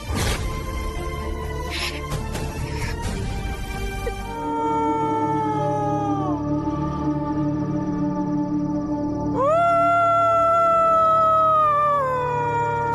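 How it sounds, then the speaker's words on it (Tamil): A dog howls at night in long, wavering, drawn-out cries, one sliding down in pitch and another rising sharply, clear and fairly close with no talking. "என்ன இந்த நேரத்துல நாய் ஊழையிடுது?"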